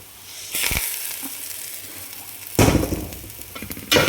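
Popped mustard seeds hitting a banana flower stir-fry in a Kerala-style thoran, giving short bursts of crackling sizzle with a quieter hiss between them.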